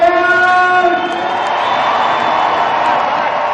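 A large indoor crowd at a men's indoor hockey World Cup semi-final in Leipzig roars in a broad, sustained wash of cheering and noise, with a horn-like tone fading in the first second.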